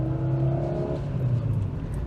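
A Dacia Sandero with a modern multi-valve petrol engine accelerating on the road: a steady, fairly loud engine drone with clear tonal harmonics that shift partway through, as if the revs or gear change, with no voices.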